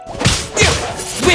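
A wind blade attack in a video game: several sharp whip-like whooshes and swishes in quick succession, loud and close, with no speech.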